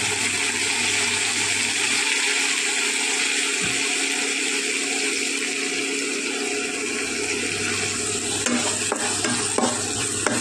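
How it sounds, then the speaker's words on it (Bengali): Tomato paste and garlic paste fry in a pan for ghugni, a loud continuous sizzle and hiss throughout, with a few spoon scrapes and knocks near the end, close up and without talk. "চলো একটু নাড়িয়ে ছাড়িয়ে নেব।"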